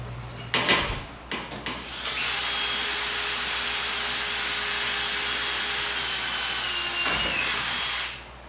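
A power drill whirs steadily for several seconds, drilling a hole in a shelving rail after a few handling knocks, then winds down; loud and close, with no talking.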